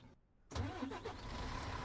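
A truck engine in a ranch sim video game turns over and catches, a sudden broadband start after a brief silence, then settles into a steady, loud running rumble.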